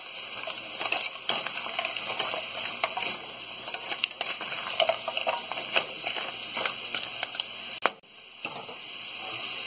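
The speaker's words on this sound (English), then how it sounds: "Do a quick stir." Homemade poblano pepper is stirred in a frying pan, giving a soft, steady sizzle with light scraping and sloshing from the stirring, close by and without talk.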